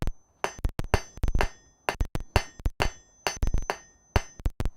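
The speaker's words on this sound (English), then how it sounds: "At this temperature, I can continue forging it a little bit without a whole lot of risk." A hammer strikes hot quarter-inch mild steel on an anvil in a smithy, sharp ringing blows in quick irregular pairs and runs with brief pauses, close and clear.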